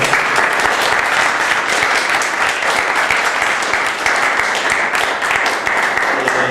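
Steady, dense applause from an audience thanking the presenter at the close of a mathematics talk on lattice theory, continuous and fairly loud throughout with no pauses.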